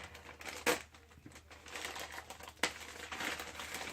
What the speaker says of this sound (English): Let's go ahead and cut this open here.